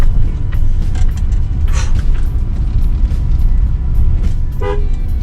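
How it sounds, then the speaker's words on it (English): A car's horn gives a few short toots while driving down tiny, narrow lanes, the honks cutting sharply over a steady low engine and road rumble. "The horn is a must down these tiny lanes"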